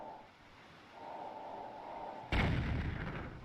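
A cannon in the video game Wind Waker fires once with a sudden deep boom, following a thin steady tone. The game sounds are quiet and heard alone.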